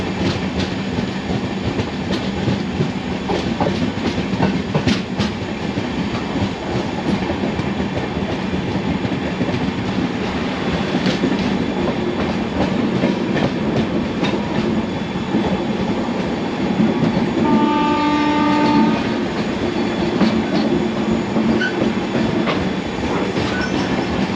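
The UDAY Express double-decker train runs into Anakapalli station with a loud, continuous rumble and rattle of carriages and a brief squeal of wheels, no voices.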